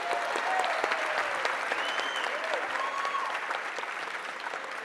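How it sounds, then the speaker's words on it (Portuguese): An audience at an economics panel applauds steadily throughout, dense clapping close by with a few voices and whistles rising faintly over it. "Uma salva de palmas."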